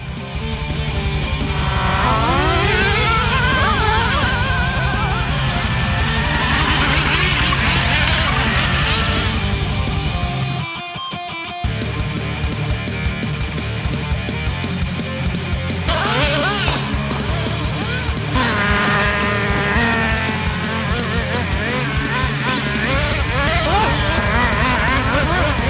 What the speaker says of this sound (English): driving the newest and loudest Traxxas Slash, the two-wheel drive Nitro Slash